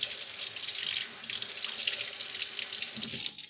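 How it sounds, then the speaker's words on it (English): A Berkey water filter is rinsed under a running tap, giving a steady close splash of water that cuts off near the end. "So at this point, I will rinse it down really, really well"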